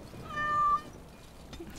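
A cat in Dragon Age: Origins - Awakening gives one clear, rising-then-falling meow lasting about half a second. It sits close and distinct over quiet game ambience, followed by soft background noise.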